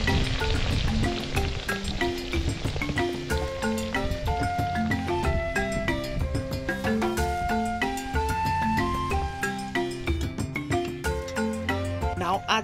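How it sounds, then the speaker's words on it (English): Sliced onions fry in hot oil while being stirred for a Ghanaian village kontomire stew, a steady close sizzle with spoon scrapes, and music plays loudly over the cooking throughout. "Add the sliced onions into the oil on fire and stir."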